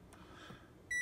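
An air fryer gives a single short electronic beep as it powers on, clear and close after a near-silent moment.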